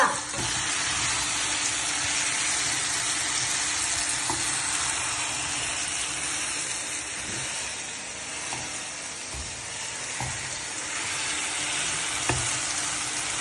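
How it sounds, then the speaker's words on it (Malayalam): Banana pieces heat and sizzle in a pan, giving a steady, loud frying hiss that runs the whole time, with occasional soft stirring clicks and taps and no voices. "ഏത്തപ്പഴം 2 മിനിറ്റ് ചൂടാക്കുക."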